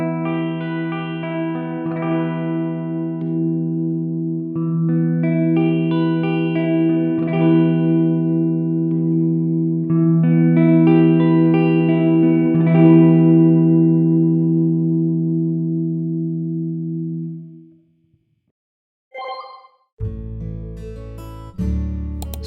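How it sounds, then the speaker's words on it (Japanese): An electric guitar played through the Studio One Ampire amp simulator with reverb, sounding sustained, layered chords and notes that ring out with a spacious tail before stopping; a brief, different burst of sound follows after a short gap. "最後にリバーブをセットします。"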